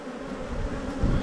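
Honey bees swarm around an open hive during a frame inspection, producing a close, continuous low buzzing drone that holds steady through the moment.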